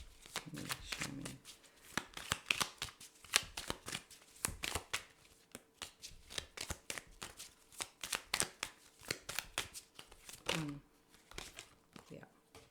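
Tarot cards being shuffled by hand during a reading, a dense run of crisp riffling and slapping bursts close by, with a soft voice speaking briefly near the start and end.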